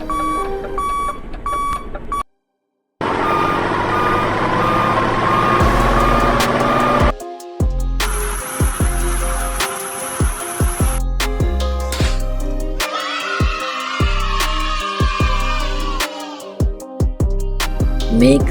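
A concrete mixer truck on a toll road construction site backs up with a loud repeating electronic reversing beep, alongside engine rumble and clanking machinery noises that start and stop abruptly.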